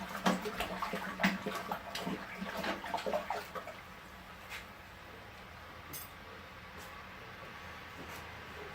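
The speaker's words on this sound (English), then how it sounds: "give that a stir" Water being stirred by hand in a home-brewing vessel with phosphate cleaning solution: a few seconds of sloshing, splashing swirls that fade into a quiet, low background with occasional faint drips.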